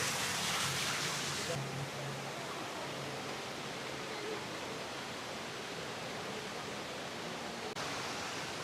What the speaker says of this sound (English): I can hear the water fall right over my head.